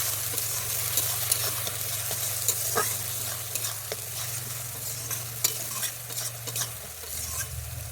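A spoon stirs garam masala and a little sugar in a hot pan for green banana kofta curry, with continuous sizzling and repeated scraping and clinking strokes up close.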